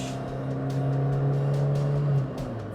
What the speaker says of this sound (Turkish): Mesela üçüncü vitesteyim. 50 ile gidiyorum. Dip gaz yaptım.